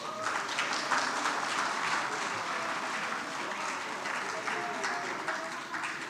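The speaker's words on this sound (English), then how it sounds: "Let us all give our talented young conservation allies a round of applause," Steady applause from a conference audience at a closing ceremony, continuous and fairly even throughout, with a faint voice underneath at moments.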